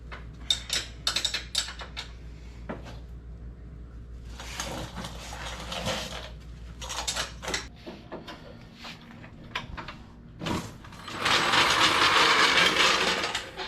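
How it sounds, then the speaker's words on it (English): Wrench tightening radius rod bolts on a 2023 Honda Talon 1000R side-by-side: close metallic clicks and ratcheting bursts with scattered taps, ending in a longer, louder stretch of steady ratchet rasping. "Of course, we'll check all these with a wrench, make sure they're good and tight."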